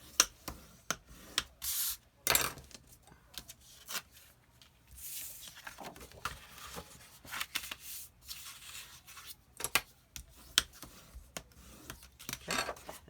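Paper being folded along half-inch score lines and burnished flat while making a mini album, giving soft repeated rubbing and sliding strokes with brief crisp swipes, close and fairly quiet, with no talking.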